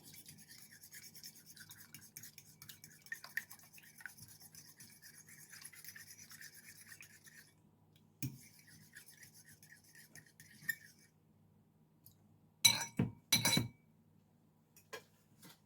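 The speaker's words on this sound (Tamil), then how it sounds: "இதை வடிவாக மிக்ஸ் பண்ணி விட போகிறேன்." Ingredients for an egg and bread dish mixed in a bowl: faint, quiet scraping and rubbing for several seconds, a gap, then a few sharp clinks and knocks of utensil against the bowl, with nobody speaking.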